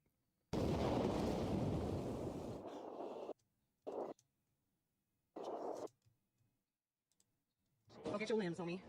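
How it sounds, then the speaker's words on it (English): A loud explosion sound effect from episode 7 of the animated series Invincible erupts in a roughly three-second rumbling blast, followed by shorter bursts separated by silence, then voices at the end. "That sound did not sound like a normal explosion."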